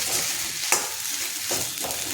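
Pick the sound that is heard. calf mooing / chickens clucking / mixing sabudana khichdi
mixing sabudana khichdi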